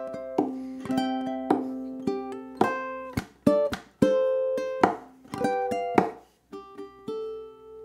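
Ukulele playing the chorus of a song alone: a steady run of bright plucked notes and strummed chords, each struck sharply and ringing out, played close and clear with no talking.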